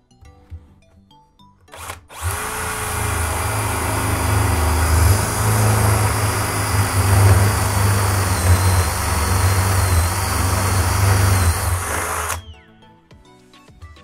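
A Bosch Professional GSB 18V-21 cordless drill boring into wood with an 18 mm wood bit, a steady loud whirring motor for about ten seconds between short clicks before and after.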